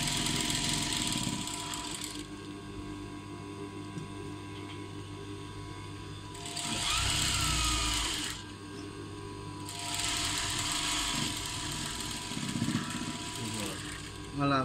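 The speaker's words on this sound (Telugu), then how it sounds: "మళ్ళీ అప్పుడు ఒక కుట్టేసాం." A sewing machine stitching a plain blouse runs in bursts of continuous mechanical whirring with a steady motor hum between, close and fairly loud, with no talking.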